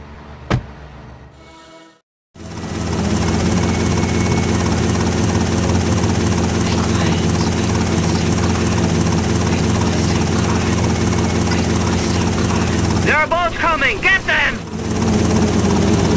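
Helicopter in GTA Vice City Stories, a sharp click then a short silence before loud, steady rotor and engine drone fills the rest, with talk briefly over it near the end.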